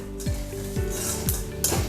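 Coconut frying in a pan with other ingredients: a steady sizzle with repeated scraping strokes of a utensil stirring against the pan at a regular rhythm, close and moderately loud.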